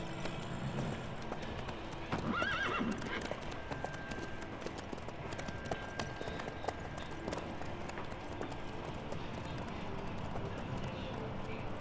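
A horse in The Witcher 3 video game trots and gallops with steady, rhythmic hoof clip-clop beneath game sounds and talking, with a brief whinny-like cry early on.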